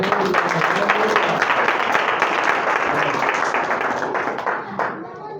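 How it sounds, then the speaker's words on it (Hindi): A church congregation claps together at a Christian sermon, a dense, sustained wash of many hands that stays loud throughout and thins out near the end. "ताली तो बजा दो यीशु मसीह के नाम से।"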